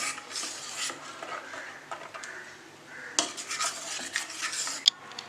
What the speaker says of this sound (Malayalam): ഏകദേശം ഇത്രയും കായപ്പൊടിയും കൂടി ചേർത്ത് കൊടുക്കാം. ഇത് നമുക്കൊന്ന് മിക്സ് ചെയ്തെടുക്കണം.